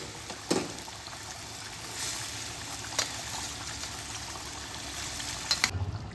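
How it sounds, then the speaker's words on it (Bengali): Fried katla fish going into a boiling gravy for kalia, a soft bubbling simmer with a few sharp splashes and clinks, quiet and close throughout. "গ্রেভিটা তৈরি হয়ে গেছে ফুটছে খুব সুন্দরভাবে এইবার আমি ভেজে রাখা মাছগুলো এর মধ্যে অ্যাড"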